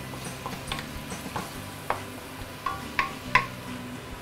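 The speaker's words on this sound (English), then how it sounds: "I'm going to saute this until the oil started to break." Curry paste sautés in oil in a wok, with a soft sizzle under repeated scraping strokes of a spatula and a few sharp metallic clinks near the end.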